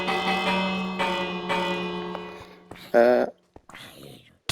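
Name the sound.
bell being rung in Minecraft video game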